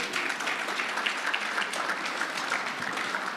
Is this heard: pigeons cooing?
no